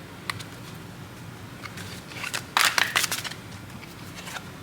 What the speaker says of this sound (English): from this deck as well, we'll do a lot of the shuffling now